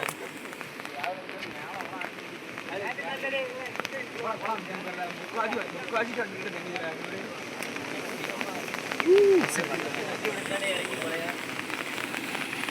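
Floodwater rushes along the Kadana River during ongoing rain, a constant broadband wash with scattered patter, while a person talks over it nearby.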